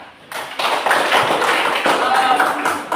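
Hands clapping in a group, likely a class or meeting, a dense run of overlapping claps after a soft start, fairly close and steady to the end.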